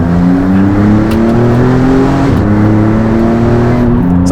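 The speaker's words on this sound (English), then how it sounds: "this one I'm going to change to third gear prematurely, see if the build is there even earlier" A Maserati MC20 supercar engine pulls hard in second, then briefly dips as it is shifted early into third and keeps climbing, a loud, close, steady drone heard from inside the car.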